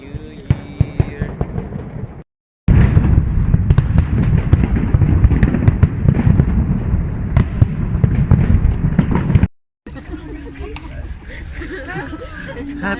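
A dense barrage of New Year's fireworks crackles and bangs nearby, broken by short gaps, while a crowd chatters and laughs underneath.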